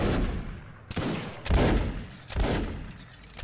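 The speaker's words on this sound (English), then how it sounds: "Ripple fire from left to the right." A musket volley ripples down a line of infantry in Mount & Musket linebattle, several loud cracking shots arriving in staggered waves about a second apart, each trailing into a rolling echo, with no talking.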